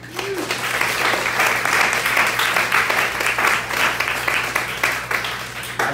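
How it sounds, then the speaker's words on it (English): Audience applause with some cheering for a guest storyteller at a speech event, a dense, steady roar of clapping filling the room throughout at close, loud level. "Keep the applause and cheers going for Kevin Kreider."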